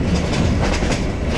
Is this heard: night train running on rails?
yes